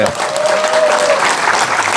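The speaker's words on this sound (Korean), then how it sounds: "박수 좀 해보고" Audience applause at a political book concert, steady clapping across the whole clip with a faint voice over it.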